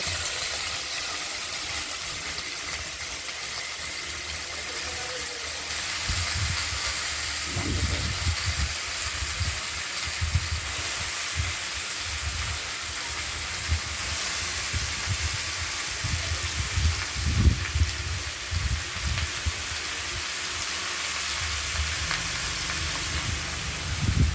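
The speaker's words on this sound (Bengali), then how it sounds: "চাল কুমড়ো কেটে রাখা চাল কুমড়োগুলো কড়াইতে দিতে থাকবো" Pieces of ash gourd go into a hot kadai seasoned with nigella seeds and whole garlic cloves, giving a constant hissing sizzle with soft thuds and clatters as they are added; no voices.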